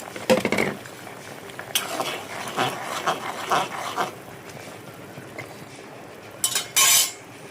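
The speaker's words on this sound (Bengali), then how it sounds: "তো এখানে ঝোলটা যেহেতু ফুটে গেছে, তো ভেজে রাখা বড়িগুলো দিয়ে দিলাম।" Fried lentil dumplings (bori) go into a pot of boiling ridge gourd curry, giving clattering pot and utensil knocks near the start and a sharp metallic clatter near the end, over a low bubbling background.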